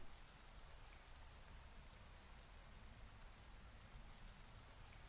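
Rain ambience in the video game Pokemon Scarlet & Violet, a faint, steady hiss of falling rain continuing evenly with no voices over it.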